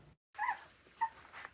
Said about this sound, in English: A very special litter of puppies recently born in the small New Brunswick community of Cambridge Narrows.